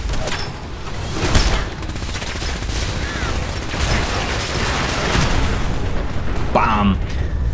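A booming explosion in the video game Fallout 4 (Automatron) rumbles amid scattered gunfire and mechanical noise, with a person talking over the action.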